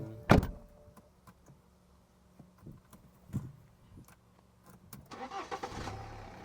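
A used car's engine is cranked over near the end, a short rough churning burst after a few quiet clicks and a sharp knock, with no clear settling into idle.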